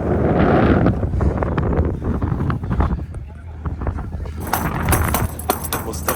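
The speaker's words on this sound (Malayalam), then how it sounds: "ശക്തമായ കാറ്റാണ്." Strong wind buffets the microphone on a speeding boat at sea off Dibba, Fujairah, a loud blustery low rumble that swells and fades beneath people talking nearby.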